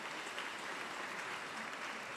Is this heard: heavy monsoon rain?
no